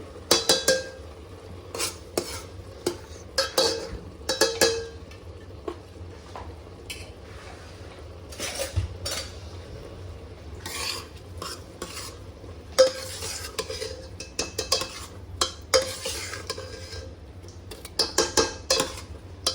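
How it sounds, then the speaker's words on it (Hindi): A spoon stirs and scrapes ingredients in a metal pot for a one-pot meal, making repeated clattering, scraping bursts over a low background sizzle, close and fairly loud throughout. "मिक्स करो इन सबको बहुत अच्छे से।"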